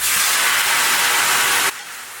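Water splashed into a hot pan of salted spinach gives a loud, steady, broadband sizzling hiss that fills the space, then drops abruptly to a quieter simmer near the end.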